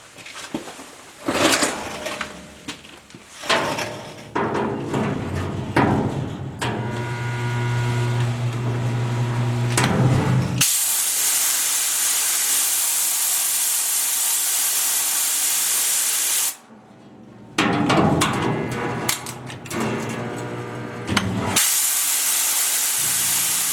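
An air hose blasts steady, loud hissing air onto heated sheet metal on a Willys CJ5 rear floor being straightened, in long continuous bursts broken by a short gap and interspersed with clanking and heating-unit noise.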